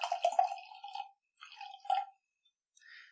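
Beer poured from a can makes a close, quiet splashing gurgle in a few short bursts separated by silence, with a fizzy trickle at the end.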